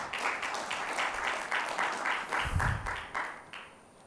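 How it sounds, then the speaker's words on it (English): Applause from a conference audience during a privacy-risk session, heard as a moderate room-filling patter of clapping that holds steady for about four seconds, with a low thump near the middle and a slight fade at the end. "We have another round of applause for David Batch."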